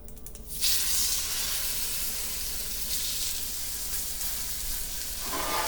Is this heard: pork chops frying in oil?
yes